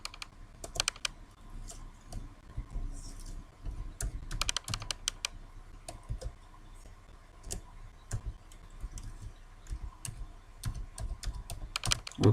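Typing code on a computer keyboard while writing R in RStudio, a steady run of close, crisp key clicks in uneven bursts with brief pauses and a few harder keystrokes near the end.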